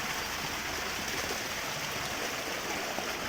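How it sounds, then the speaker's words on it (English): A waterfall pouring cold, clear water, a steady broadband roar with no breaks, close and full throughout, with no talking. "This amazing waterfall."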